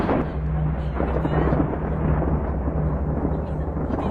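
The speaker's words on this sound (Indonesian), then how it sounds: "Sesekali kudengar suara petir di luar rumah." Low, continuous rumbling thunder outside a house at night, a steady dull roar without sharp cracks, heard from indoors with a faint television murmur in the background.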